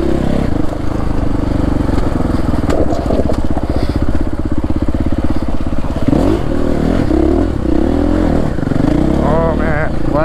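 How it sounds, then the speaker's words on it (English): A dirt bike engine runs loud and close on rough, technical desert single track, its note rising and falling and revving hard as the rider works over rocky terrain. "I'm having to get used to now the dirt bike again."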